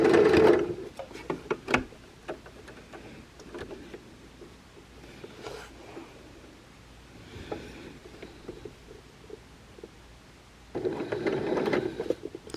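Sewing machine stitching the second pass of a French seam at a quarter inch, with short bursts of mechanical whirring at the start and end separated by quieter handling clicks and rustles, heard close up.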